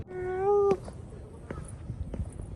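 During a visit to a temple in Kameido, a cat gives one clear, drawn-out meow up close, followed by quieter background rustling and faint ambient sound.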